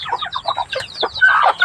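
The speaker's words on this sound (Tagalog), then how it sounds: "ang ingay ng mga manok, kakainis" Several farmyard chickens cluck close to the microphone in quick, overlapping bursts, loud and busy throughout without any talk.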